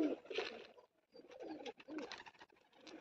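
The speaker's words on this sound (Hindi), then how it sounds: "उड़ाते हैं इस कबूतर को जो गांव में से मैं लेके आया था" A village pigeon coos close by in soft, throaty bursts, with a short pause in the middle before the coos resume.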